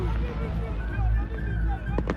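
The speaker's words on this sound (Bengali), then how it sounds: "আতশবাজি" New Year's midnight fireworks burst over Lisbon, a dense rumbling crackle of distant explosions under a voice describing the scene.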